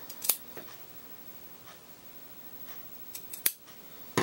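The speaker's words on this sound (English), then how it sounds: "we're going to cut a triangle out of it" Scissors snip through folded felt to cut out a triangle, giving a few sharp, close crunchy cuts spaced apart, separated by quiet pauses.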